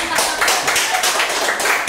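Clapping from a small audience at a Spanish-language talk program, a run of bright, uneven claps that carries on steadily for two seconds, close to the microphone.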